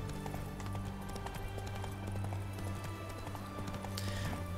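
Roach, the horse in The Witcher 3 (Hearts of Stone), clip-clops at a walk on town ground with steady, even hoofbeats throughout, set against a constant low game-world ambience.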